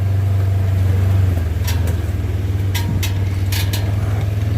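A Ford Ranger's engine drones steadily at close range while driving, with a strong low rumble throughout and brief higher bursts of revving and clatter over the top; no one talks.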